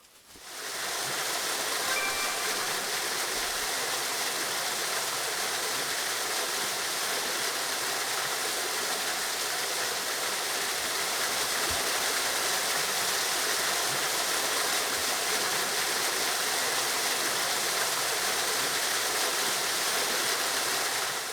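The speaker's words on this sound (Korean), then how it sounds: "이 폭포가 이게 장관이네요" A waterfall pours over stacked stones in a winter mountain valley, a steady, loud, broadband rush that holds constant from start to finish with no talk over it.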